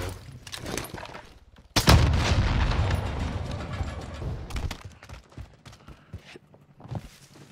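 Close, loud gunfire from an AS Val rifle in a first-person shooter game: a few scattered shots, then a heavy blast followed by a sustained volley of rapid reports that thins into sporadic cracks.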